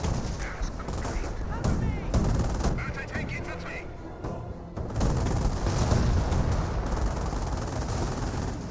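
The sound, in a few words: gunfire and bazooka shots in Company of Heroes video game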